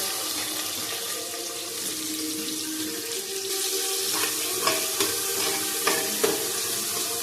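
Onion frying with mustard seeds and cumin in a home kitchen pan, heard as a continuous hiss with occasional stirring scrapes toward the end, close and moderately loud with no voices.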